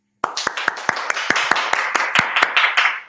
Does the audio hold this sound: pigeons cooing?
no